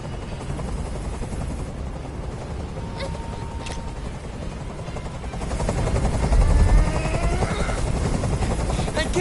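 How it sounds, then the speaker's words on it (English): A helicopter hovers in the video game Detroit, its rotor chop a constant loud drone that swells louder midway, with faint voices underneath. "Tell that helicopter to get out of here."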